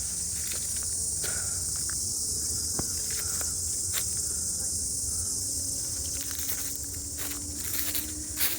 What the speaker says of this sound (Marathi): आणि रातकिड्यांचा आवाज.